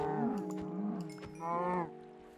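Cows mooing in the Minecraft video game: two close, drawn-out lowing calls, the second louder and rising, with no talking.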